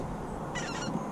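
Specklebelly geese honk in a short burst as they fly overhead during a California duck hunt, several quick calls rising over steady outdoor background noise.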